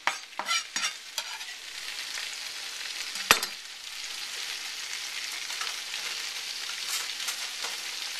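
Bacon frying in a pan and being stirred, with a steady crackling sizzle throughout, a few louder scraping clicks early on and one sharp knock near the middle, heard close with no talking.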